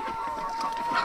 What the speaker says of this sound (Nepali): यस्तो दामी दामी भालेहरु छ।